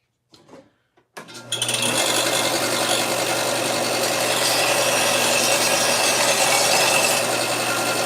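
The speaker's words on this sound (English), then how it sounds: "I'm going to sand this." A power sander grinds steadily across SCA armour, starting after a few brief handling knocks and then holding a loud, continuous whirring rasp close by until the end.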